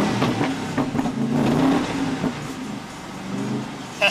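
A car revs hard on the Santa Pod quarter mile with no traction, the engine note rising and falling continuously over a rough, wind-buffeted roar, fairly close and loud.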